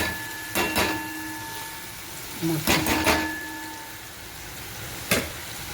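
Chopped small tomatoes hit a hot pan for a masala okra curry, giving a steady low sizzle with a few short, louder bursts of crackle spread across the moment.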